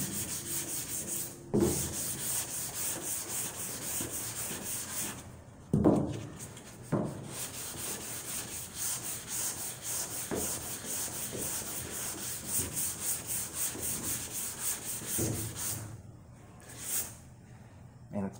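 A 1961 Chevrolet Impala body is gently hand-sanded with 400-grit paper to take off primer, giving close, repeated rubbing strokes with brief pauses and someone talking over some of it.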